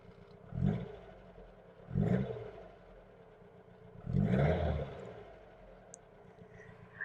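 A Chrysler Avenger's 1.6 engine is blipped three times while stationary, each short throttle burst swelling and fading over a low idle, the last rev held slightly longer, heard from inside the car.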